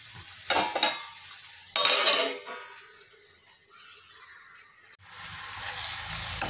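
Raw mango curry (kairichi bhaji) being stirred and cooked in a pan: two short bursts of scraping and sizzling, a quieter simmering stretch, then a sharp knock and renewed frying hiss, close and without talk.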